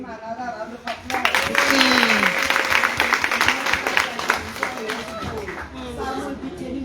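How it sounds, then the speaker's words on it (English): Audience applause at a school speech event, a steady wash of clapping lasting several seconds, with voices and cheering over it. "please let's give them another round of applause"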